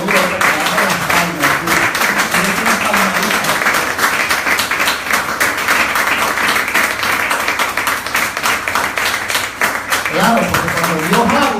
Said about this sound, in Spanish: Le doy un aplauso al Señor para ese servicio.